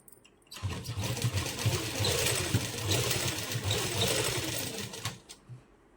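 A sewing machine stitches a seam along a lace puff sleeve, starting after a brief pause and running in a fast, steady mechanical chatter for about four and a half seconds before stopping, close and fairly loud.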